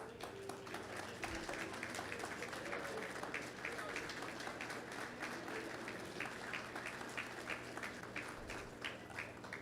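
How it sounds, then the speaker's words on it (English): A crowd at a live-streamed security event claps steadily, with dense, continuous applause and a soft background hum running the whole stretch at low overall volume. "keep the applause going"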